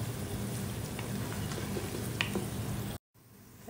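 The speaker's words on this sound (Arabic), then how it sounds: "دحين حخلي البصل يشقر شوية، وبعدين أنزل اللحم." Chopped onions frying in oil in a pan as they brown, before meat goes in for Samarkand-style rice; a soft, continuous crackling sizzle, fairly quiet, cut off abruptly near the end.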